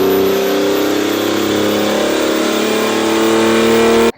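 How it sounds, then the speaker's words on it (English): A Grumman with a 370 bhp OM606 engine swap and a 3-inch exhaust runs at steady, loud revs, its throaty drone holding strong and even right up to a sudden cutoff, with no voices. "This is probably my favourite addition, the exhaust."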